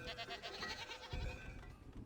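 Goats on a farm in the frontier-settlement video game Farthest Frontier bleat softly, one or two brief, faint calls standing out against a low ambient game background.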